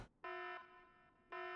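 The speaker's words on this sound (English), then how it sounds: "That's the exact same alarm I use on my phone" A loud electronic alarm sounds in the game Megaton Musashi W: Wired, a harmonic-rich tone in two bursts with a softer sustained stretch between, close and alone.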